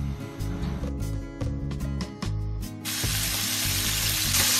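Scallion, ginger and garlic land in hot oil in a wok, with clanking and stirring at first, then a loud, dense sizzle that swells and holds steady up close.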